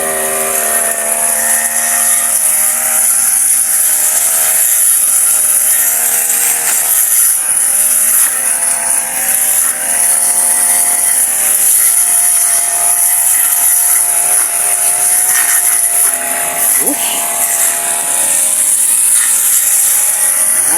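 A motorized grass cutter runs outdoors in the rain, giving a loud, continuous high-pitched engine whine that stays close and steady for about twenty seconds.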